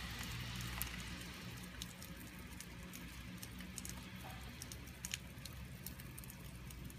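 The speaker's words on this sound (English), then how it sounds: "The rain's eased off." Light rain from a passing thunderstorm, a soft steady patter of scattered drops on surfaces with a gentle background hiss, fairly faint and distant.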